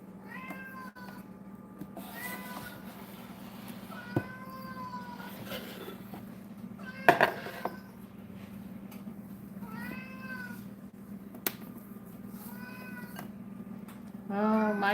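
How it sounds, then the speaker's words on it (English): A domestic cat meows repeatedly and insistently indoors in a kitchen, with drawn-out calls spaced through a quiet room and a short louder clatter partway through. "Oh, my cat's carrying on. He is going to carry on and on and on and on."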